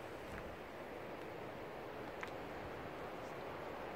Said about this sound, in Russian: Слышен шум моря